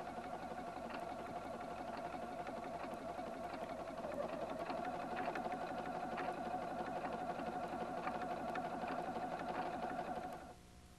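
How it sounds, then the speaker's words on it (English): A Husqvarna Viking Platinum 770 sewing machine satin stitches around an appliqué with an open toe foot over stabilizer, a steady, fast, quiet rhythmic whir that holds for about ten seconds before stopping. "satin stitch around the appliqué"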